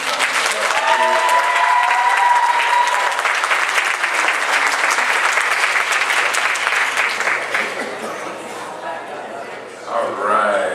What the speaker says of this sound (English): Put your hands together one more time.